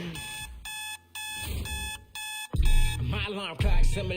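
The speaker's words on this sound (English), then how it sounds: "My alarm clock similar to a gunshot." An alarm clock rings in evenly spaced electronic beeping bursts, then gives way to louder, harsher blasts near the end.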